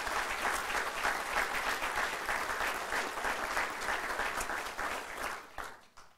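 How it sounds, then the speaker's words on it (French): An audience at a special presentation for a campus of the CCNB in the Acadian Peninsula claps in sustained, even, fairly distant applause that fades out at the end. "s'il vous plaît, un main d'applaudissement pour notre jeunesse qui est ici"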